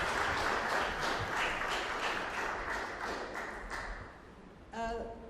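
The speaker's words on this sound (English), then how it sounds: "Can we please give him another round of applause?" Audience applause at an International Human Rights Day commemoration fills the room as dense, sustained clapping that gradually thins out, and then a voice begins speaking near the end.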